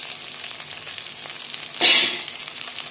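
Cumin seeds hit hot oil with a steady crackling sizzle that swells into a sudden loud burst of hissing midway, then settles back to a bright fry, close up with no voices.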